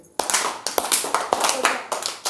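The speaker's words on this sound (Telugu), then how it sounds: "చప్పట్లు కొట్టండి." Children clap their hands in a series of sharp, uneven bursts, each clap ringing out close and loud with short gaps between them, during a storytelling session about Rama and Hanuman.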